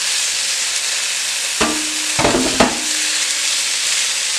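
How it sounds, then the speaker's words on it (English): Pork pieces browning over high heat in a hot pan for dinuguan, a steady loud sizzle with a few sharp stirring scrapes and clatters near the middle. "what you really want to do here is brown the meat so it has a nice outer texture"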